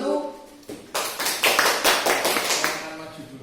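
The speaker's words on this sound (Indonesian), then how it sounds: "Tepuk tangan untuk kelompok 1." A classroom group bursts into brisk hand clapping for about two and a half seconds, close and fairly loud, after a brief voice at the start.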